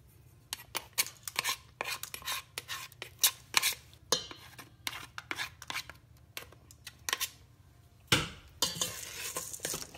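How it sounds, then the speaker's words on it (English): A southwestern burger mixture gets stirred in a bowl with a masher used as a spoon. Repeated close scraping and tapping strokes come in an uneven rhythm, with one louder clatter toward the end. "And stir that up."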